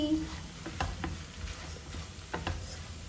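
Ivy gourd thoran is stirred in a frying pan. A soft sizzle runs under a few scattered spoon clicks and scrapes against the pan.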